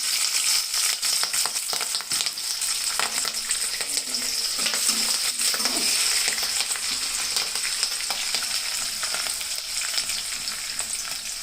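Chopped onion, ginger and green chilli fry in hot oil for semiya upma, giving a continuous bright sizzle with scattered crackles and occasional stirring scrapes, close and steady.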